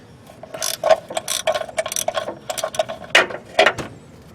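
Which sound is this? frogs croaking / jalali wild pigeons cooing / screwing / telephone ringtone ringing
screwing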